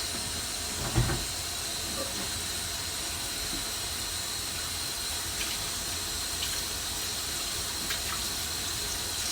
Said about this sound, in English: the rice cooker is definitely working